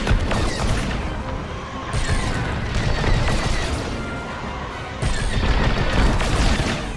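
Blaster fire crackles in bursts during a space dogfight in the Star Wars: Squadrons prologue, with rapid shots, booming hits and engine roar layered densely at moderate loudness.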